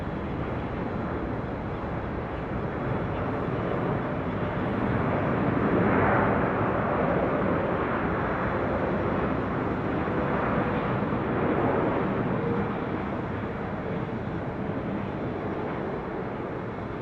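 A jet departing runway 24 left at LAX, heard from high above as a long, broad, steady roar that swells slightly midway and then eases off.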